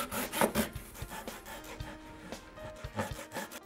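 Rough wooden rasping strokes come in uneven bursts, like a hand saw or rasp cutting Southern pine garden bench aprons nearby.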